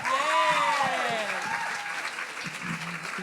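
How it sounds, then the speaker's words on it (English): Audience applause at a book award ceremony and launch, a steady wash of clapping from a seated crowd, with a voice speaking over the start before the clapping carries on alone. "Give them a round of applause."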